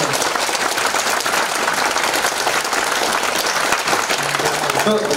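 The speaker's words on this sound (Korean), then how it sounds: "큰 박수 한번 주세요." A seminar audience gives a speaker a big round of applause, a loud continuous burst of many people clapping that holds steady throughout.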